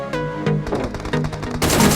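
Rapid bursts of automatic gunfire from the PUBG Mobile battle royale game, loud repeated shots in quick clusters with a sharper, denser volley near the end.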